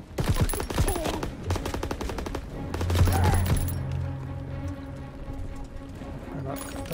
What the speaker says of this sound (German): Cool aus der Deckung schießen.